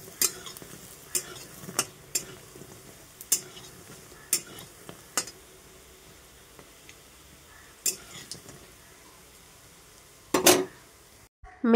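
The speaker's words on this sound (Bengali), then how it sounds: "আর এখানে বেসনের বড়া ভাজা হচ্ছে।" Gram flour fritters frying in hot oil in a home kitchen, with a soft steady sizzle beneath repeated sharp clinks and scrapes of a utensil stirring in the pan, followed by a louder clatter near the end.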